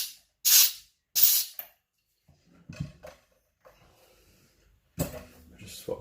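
CO2 purges out of a Fermzilla fermenter in two sharp, loud hissing bursts, followed by quiet handling clicks and a longer spraying hiss near the end.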